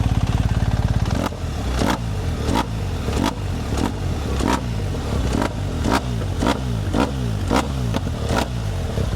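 A BMW R 1300 GSA motorcycle with its exhaust valve open idles briefly, then is blipped repeatedly in sharp, loud revs that rise and fall in quick succession, close to the mic.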